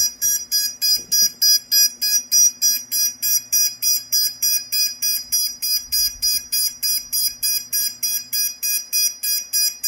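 A rapid series of high electronic beeps from an uncalibrated quadcopter drone motor pulses in a steady rhythm, close and loud, repeating throughout with no pause.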